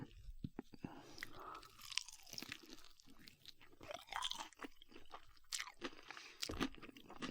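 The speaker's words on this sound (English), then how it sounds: "Did you hear that chicken? That sounded so crunchy." Close, crisp crunching bites and chewing of crispy KFC fried chicken, loud snaps repeating irregularly against a quiet background.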